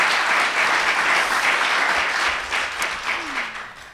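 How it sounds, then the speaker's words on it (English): An audience at an entrepreneurship panel event gives a round of applause, a dense wash of many hands clapping that stays loud and slowly thins toward the end. "if we give a round of applause to the panelists."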